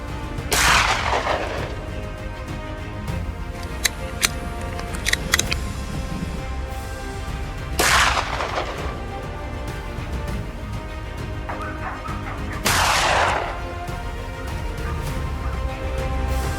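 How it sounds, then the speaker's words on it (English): A small .22 LR rifle fires three sharp shots outdoors, spaced several seconds apart, each a loud crack with a short decaying tail and quieter ambience between. "Use a small 22 LR rifle to shoot rabbits from a safe distance of 20 to 50 yards."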